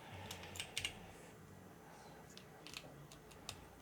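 Quiet, close typing on a mechanical keyboard with HMX Light Tactile switches, DCS, and an aluminium plate, a run of soft, even keystroke clacks with a couple of louder clusters, no talk.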